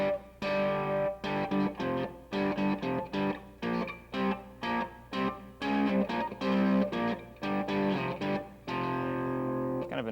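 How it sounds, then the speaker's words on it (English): Fender Stratocaster electric guitar through heavy distortion, strummed in a steady rhythm of thick, sustained chords broken by short choppy gaps, loud and close with no voices. "Sometimes it gets a little bit too thick with all that distortion."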